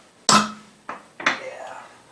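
A spoon knocking against a pot while faux pho is stirred, three sharp metallic clanks with ringing decay, close and clear.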